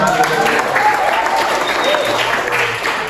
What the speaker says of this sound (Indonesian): Bagus, buat Agus, tepuk tangan.